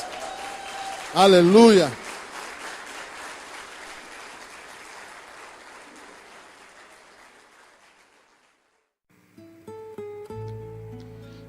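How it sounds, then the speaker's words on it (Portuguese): A church congregation in Brazil claps steadily after a sermon, with a loud sung or shouted exclamation rising over the applause early on; the clapping fades out and keyboard music begins. "vamos dar um forte aplauso a Jesus, Ele merece."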